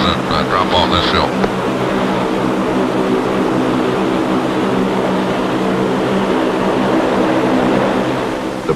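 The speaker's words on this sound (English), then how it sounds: "Engines must be kept running. Lubricants might freeze in moments if not kept circulating." Aircraft engines idle steadily as a plane taxis over snow in Antarctica, a continuous droning hum with tonal bands that stays loud and even throughout, while a brief voice is heard near the start.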